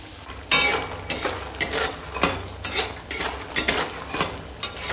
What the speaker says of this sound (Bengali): এখন একটু বড়ি ভেজে নেব।